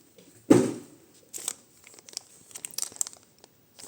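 Plastic wrapping crinkles and rustles in a few short bursts, loudest at first, then lighter intermittent crackles close by.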